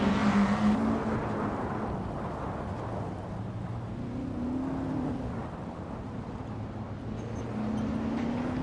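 AI-controlled race cars speed around a track in a video game, their engines holding a steady drone with gentle pitch swells as the pack circles, continuous and moderately loud throughout.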